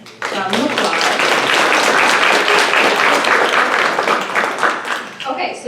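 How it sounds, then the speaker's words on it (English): An audience applauding panelists after a student breakout panel at Alverno, loud sustained clapping from many hands that fades out near the end as a voice begins to speak. "let's give our panelists a round of applause"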